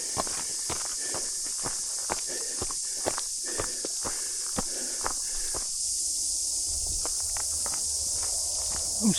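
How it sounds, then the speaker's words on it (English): A continuous high, shrill cicada drone rings from the treetops along the Upper Nihotupu forest track in Auckland, New Zealand, while close footsteps crunch steadily beneath it. "I'm still trying to look for a cicada."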